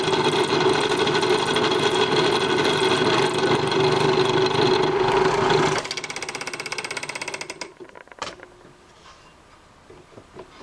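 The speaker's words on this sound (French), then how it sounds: "on va percer le second trou dès maintenant" A drill press bores a second hole through wood for a simple wooden puzzle, its motor running as a steady, harmonic-rich whine before cutting off abruptly and winding down to quiet ticking.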